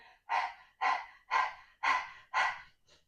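Five rhythmic, forceful breath-of-fire breaths puff sharply through the nose at a steady pace, close and clear, followed by a softer sixth.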